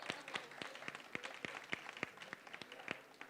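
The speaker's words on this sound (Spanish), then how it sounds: "Un aplauso." Sparse audience applause at a panel discussion, a handful of distinct claps at a steady, slightly irregular rhythm, fairly faint and without voices over it.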